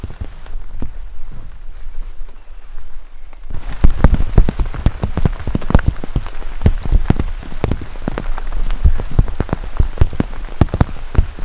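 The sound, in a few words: heavy rain while hiking uphill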